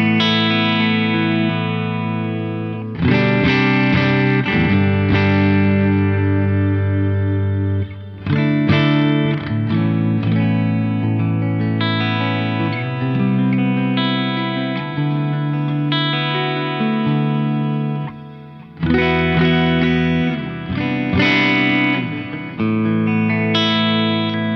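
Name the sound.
electric guitar through Synergy amp with reverb, delay, split coil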